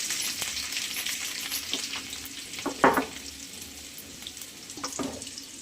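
Mustard seeds, cumin and garlic sizzling in hot oil for a methi-peas dish, a low, steady frying crackle with a few sharp pops and clinks from the pan.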